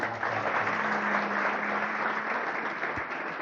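Hearty applause rises from the audience at a college-organised blood donation camp. The clapping is continuous and fairly loud for the whole stretch, with a faint steady hum running beneath it and no speech on top.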